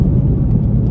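A Whipple supercharged 3.0 Mustang cruises in fourth gear, its engine a loud, steady, deep rumbling drone heard from inside the car with no break.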